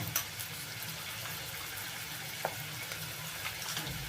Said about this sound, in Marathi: आता हे छान तेलामध्ये परतवून घ्यायचं आहे